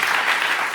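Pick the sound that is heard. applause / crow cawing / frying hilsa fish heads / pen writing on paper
applause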